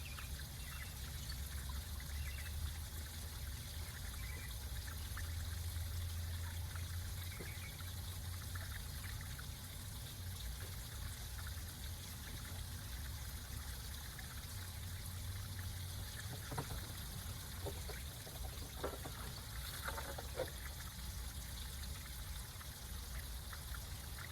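Quiet, continuous trickle of water flowing through the gas tank of a 1989 Honda GL1500 Gold Wing being flushed out, a steady soft stream with occasional small splashes and clicks over a low background hum.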